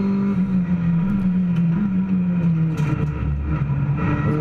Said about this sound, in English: Niels Langeveld had the whole shot, took the lead going into Tarzan corner